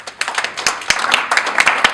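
Conference audience giving a round of applause for an employee of the month, sharp close hand claps in an irregular, fairly sparse patter from a modest crowd.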